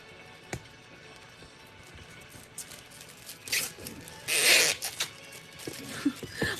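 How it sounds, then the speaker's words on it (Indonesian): Plastic packaging being opened, crinkly rustling bursts that build to a loud, dense crackle near the middle, then a few smaller rustles; no talking over it. "Maaf suara plastik."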